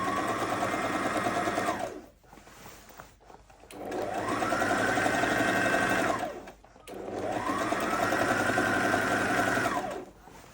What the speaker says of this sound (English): Let's start sewing.